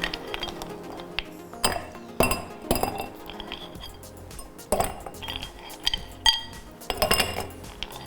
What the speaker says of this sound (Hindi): पहले थोड़ी थोड़ी आइस डाल लेते हैं